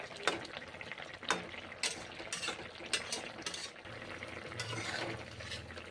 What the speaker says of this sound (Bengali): ঢ্যাঁড়সের তরকারি রান্না করে নিচ্ছি আজকে